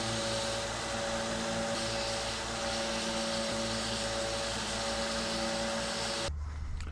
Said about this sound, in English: we will also sand the back that we treated with super glue as well